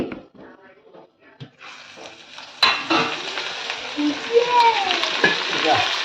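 Spices, including fenugreek, roast in hot oil for mango pickle, a quiet start giving way to a steady loud sizzle with a sharp burst and scattered crackles and pops throughout.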